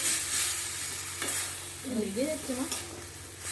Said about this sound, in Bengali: নতুন কড়াই আজকে ইউজ করা হচ্ছে চিকেন রান্না করার জন্য